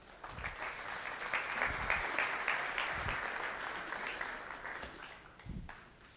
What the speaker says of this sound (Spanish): Los recibimos, por favor, con un fuerte aplauso.